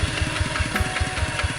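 A walking tractor engine runs while ploughing a rice field, chugging in quick, even beats about five times a second, close and fairly loud, with no speech over it.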